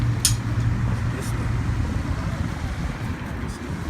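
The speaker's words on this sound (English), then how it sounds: "And listen to all this traffic" Steady street traffic rumbles in the background, a continuous low drone of passing cars with a faint hiss on top, moderately distant and unbroken, with no voices over it.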